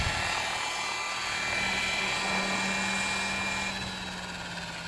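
An RC model helicopter engine runs at high idle at a flying field, a steady, loud, high-pitched whine and buzz that holds throughout and eases slightly near the end.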